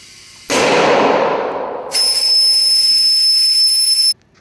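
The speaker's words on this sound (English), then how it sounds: "And there goes the second bead right about any minute now." A tire bead pops loose on an Atlas TC221 electric/pneumatic swing-arm tire changer: one loud sudden burst that fades, followed by a steady hiss of escaping air with a high whine that cuts off abruptly.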